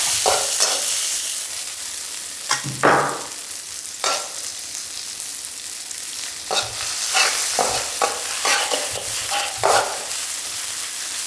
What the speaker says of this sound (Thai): ตั้งน้ำมันให้ร้อนนะคะ แล้วก็ใส่ กระเทียมกับพริกที่เราตำเอาไว้